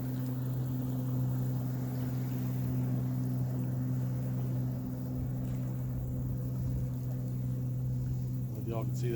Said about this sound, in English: Whether y'all can see that boat go by there or not.